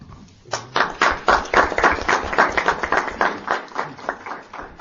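Applause for fifth-grade students at a school board meeting, a small group clapping in a fairly close, uneven patter that rises quickly and keeps going at a moderate level.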